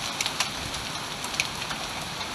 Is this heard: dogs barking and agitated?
no